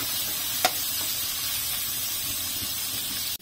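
Shrimp sautés with garlic and onion in a pan, a continuous close hiss and sizzle with one brief clink early on, no one speaking.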